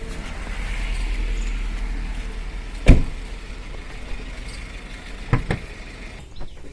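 Bonnet of a Maruti Suzuki Swift with a 1.3 petrol G13BB engine being opened: a sharp latch clunk, then two lighter metallic clicks over steady outdoor background noise.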